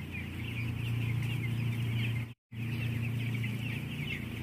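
Inside a closed broiler house, a flock of chickens clucks softly and continuously beneath a loud, constant fan drone, broken by one brief gap of silence.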